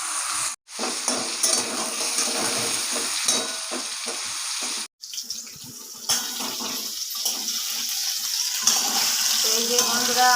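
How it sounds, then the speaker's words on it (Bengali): Potatoes coated with a little turmeric sizzle steadily in hot oil in a wok, a continuous crackling fry with occasional stirring and brief pauses, loud and close. "এই যে বন্ধুরা আমার এই আলুগুলো আমি ভালো করে ভেজে নিয়েছি, একবারে লাল লাল করে।"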